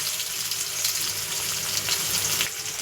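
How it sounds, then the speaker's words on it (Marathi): Garlic frying and browning in a pan with cumin, a steady broadband sizzle holding at an even level throughout, close and continuous with no talk. "चला आपला लसूण पण थोडा ब्राऊन होत आला आहे बघा"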